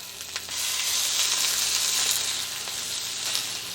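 Pork tenderloin searing in a hot cast iron skillet, a quiet start swelling into a loud, steady, close sizzle that holds with a faint hiss.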